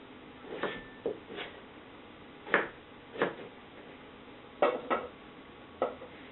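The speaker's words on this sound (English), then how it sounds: "I just want to chop these up into essentially bite-sized pieces" Knife chopping red potatoes into bite-sized pieces on a board, a series of separate, moderately loud thuds spaced irregularly about a second apart, with quiet gaps between.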